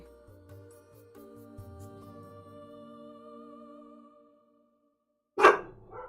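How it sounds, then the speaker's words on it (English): Dogs bark in one short, loud burst near the end, after a stretch of steady electronic game music fades to silence. "there's upset dogs going on"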